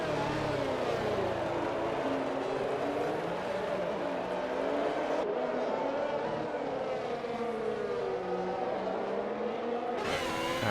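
Ferrari Formula 1 engine in a racing video game at the Mexico circuit, a loud continuous high-pitched whine rising and falling through gear changes, with other cars close by throughout.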